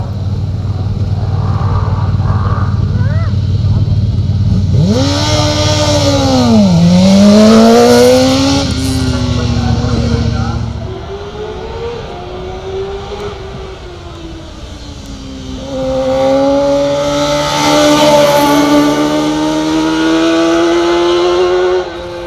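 Honda 600 racing motorcycle at an outdoor hillclimb, its engine screaming loudly up through the gears with sharp rising and falling revs, fading slightly mid-run before surging again near and strong.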